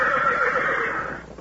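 A horse named Champion, Gene Autry's wonder horse, gives one long, loud whinny with a wavering, quavering pitch that fades out at the end, heard alone with no voices.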